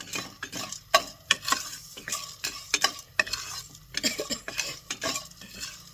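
Gond, edible gum, fries and gets stirred in a pan for pinni laddus, with a gentle sizzle beneath repeated sharp spoon clinks and scrapes against the metal, close up and irregular.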